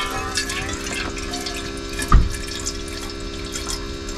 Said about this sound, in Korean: 버튼 한번 뚝 눌러주시면 물이 짤짤짤짤짤짤 하고 잘 나옵니다